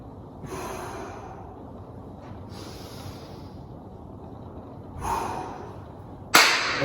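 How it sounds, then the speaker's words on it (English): Two deep breaths during a rest in a core workout, each a long airy inhale-exhale close to the mic, followed by a sharper sudden exhale near the end. "Hands behind your head. 2 big deep breaths."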